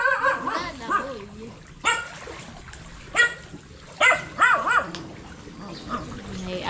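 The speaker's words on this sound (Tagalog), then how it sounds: "May aso." A dog barks and yips in short bursts, several sharp barks spaced out over a background of voices and outdoor noise.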